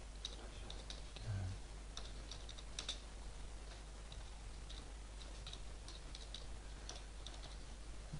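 Keys on a computer keyboard tapped while typing into a Microsoft Word document, heard as faint, scattered clicks over a steady low hum with no voices.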